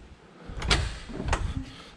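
A cabin door on a 2020 Hewescraft Searunner 210 boat opens and latches, giving two close, sharp knocks with a faint rattle after them.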